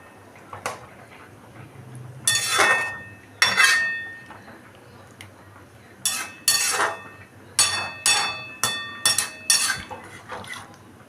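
A spoon scrapes and clinks against a pan as parwal (pointed gourd) curry with a little water is stirred, giving irregular bursts of metallic clatter separated by short pauses.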